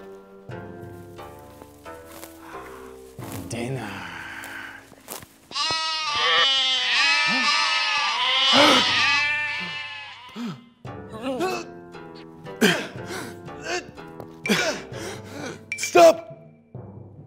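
Sheep bleat loudly and repeatedly in an animated children's story, wavering cries close by, mixed with excited shouting voices and gasps throughout.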